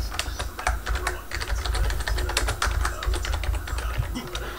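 Rapid computer keyboard typing, a steady stream of clacking keystrokes heard close up at a gaming setup, with no talking over it.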